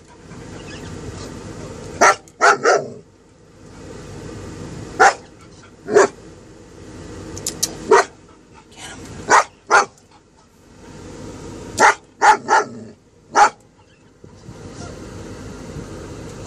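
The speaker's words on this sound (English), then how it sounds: "He's just barking at him" A dog barks repeatedly at someone, sharp close barks coming in irregular single and double bursts over a steady background hum, with no talking.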